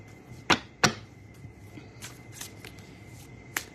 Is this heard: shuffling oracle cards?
yes